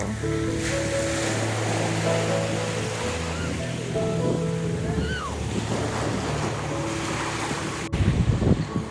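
Black Sea waves washing in steadily on an Odesa beach with wind buffeting the microphone, a broad continuous rush with a louder gust near the end; a voice speaks faintly beneath.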